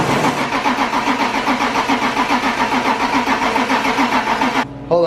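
A BMW E36 328i engine, long abandoned and with a fuel problem, cranks on ether starting fluid: a loud, rapid rhythmic starter churn running for over four seconds, then stopping abruptly without catching.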